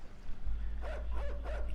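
Dog barks in the game Inside, three short barks repeating roughly every third of a second over a low steady rumble of ambience, no voices.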